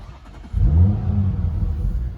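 An Audi RS4 Avant engine catches and revs up with a deep, loud rumble, then settles into a steady throaty idle.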